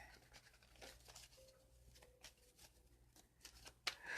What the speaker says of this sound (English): And I'm just going to shuffle while I wait to hear.